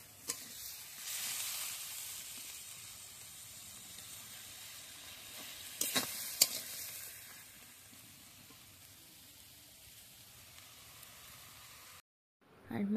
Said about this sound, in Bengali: তারপরে এই সব মশলা দিয়ে মশলাটাকে এখন এই যে কষাচ্ছি